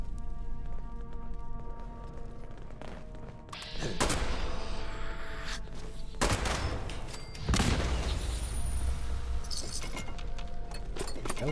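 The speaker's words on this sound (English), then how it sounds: "That was a super mutant explosion." Super mutant explosion in a video game, a sharp burst followed by further loud bangs and crackling debris, against constant game background noise with no talk.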